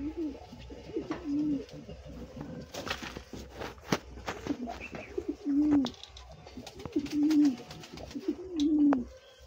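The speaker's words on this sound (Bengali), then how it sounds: "এই পাউটার দুটো" Pouter pigeons coo in repeated low, rolling calls spaced a couple of seconds apart, close by, with some shuffling and a few faint background noises.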